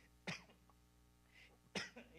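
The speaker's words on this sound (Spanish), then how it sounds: "perdona que no me ha aliviado todavía esta tos." Two sharp, fairly faint coughs about a second and a half apart from a man with a lingering cough, heard alone in a quiet room with no talk.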